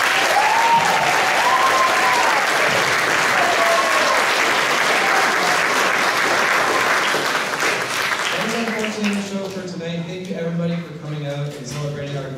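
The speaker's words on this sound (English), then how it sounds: "If we could just give another round of applause for all the fantastic performers that played tonight." Audience at a high school spring concert claps loudly for the performers, sustained applause with a voice rising over it before the clapping thins out toward the end.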